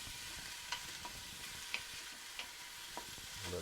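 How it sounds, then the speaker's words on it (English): Peppers and onions sauté in an Instant Pot, giving a steady sizzle with scattered utensil clicks and scrapes from stirring, close and moderately loud, with no talking. "we want to saute that for about 5 to 6 minutes"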